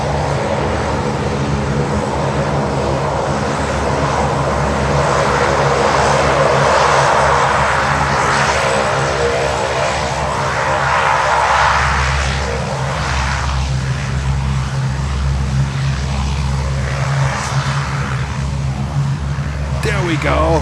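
A fixed-wing airplane departs Miami airport for Fort Lauderdale, its engines a loud, steady roar that holds for about twenty seconds, with voices in the background.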